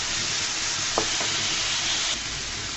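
Potatoes and flat beans frying in hot oil, a steady dense sizzle throughout with a couple of brief stirring scrapes, close and fairly loud, no talk.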